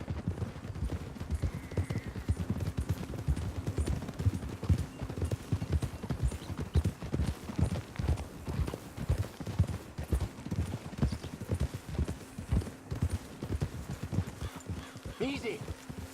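Rapid hoofbeats of a horse in Red Dead Redemption 2 gallop in a steady, rhythmic clip-clop for a long stretch, with someone talking over them.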